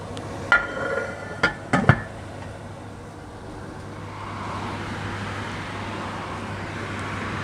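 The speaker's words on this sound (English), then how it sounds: "I'm just going to pop the lid on this and get it straight into the oven" A metal lid clanks onto a sausage and bean casserole pot, then a few sharp clinks and knocks as the pot goes into the preheated oven, followed by a low steady hum of the running oven.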